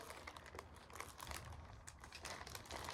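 Crinkly plastic packaging from a Temu parcel is handled and pulled open, producing continuous close, dense rustling and crackling with scattered sharper crunches throughout.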